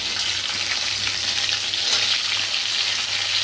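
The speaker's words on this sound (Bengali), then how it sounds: "এটা একটু ভাজা ভাজা হোক" Potatoes and taro frying in hot oil in a pan, a steady close sizzle with faint stirring scrapes throughout, no voices.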